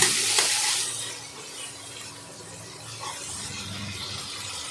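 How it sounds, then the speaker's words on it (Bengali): Barramundi (bhetki) fish oil sizzles softly in a pan as it is stirred, with an initial clink of a utensil against the pan and a faint, steady frying hiss afterward. "এদিক ওদিক নাড়াচাড়া করে ভেটকি মাছের তেলটাকে ভাজলাম"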